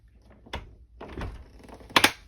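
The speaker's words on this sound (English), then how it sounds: "making sure that when I open the door, it's not going to pull this off" Camper door opened, a few soft thunks and clicks with a sharper latch clack near the end, close and fairly quiet.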